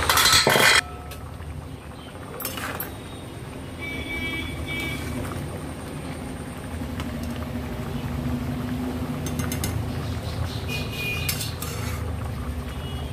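A pot lid is lifted off simmering lentils with Malabar spinach, giving a short loud clink at the start, followed by a steady low bubbling simmer with faint occasional clinks.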